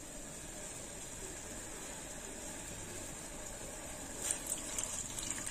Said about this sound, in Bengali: দিয়ে দিলাম সর্ষের জলটা